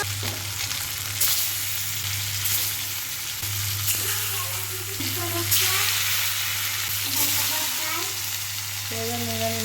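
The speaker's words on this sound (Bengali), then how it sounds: "ভুনা করার জন্য আমি মাছগুলো আগে ভেজে নিব তো কড়াইটা বসিয়ে দিলাম" Steady sizzling and crackling of fish frying in hot oil in a wok, a continuous hiss with a low hum beneath and occasional clinks of a utensil.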